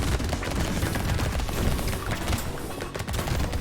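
SMGs in the video game Brotato fire in a dense, continuous rattle of rapid shots, loud and relentless with no pauses and no voices.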